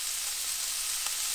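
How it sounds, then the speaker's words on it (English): Steady, close sizzling and crackling of pancetta frying in a hot pan on a ceramic egg-style grill, a continuous bright hiss with no voices. "you want to hear that sizzle as soon as that goes in."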